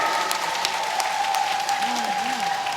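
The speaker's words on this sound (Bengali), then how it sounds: "সবাই জোরে জোরে করতালি" An audience claps loudly at a kavigan, a traditional Bengali poetic duel, with a steady wash of applause running the whole time, a sustained tone underneath and voices mixed in.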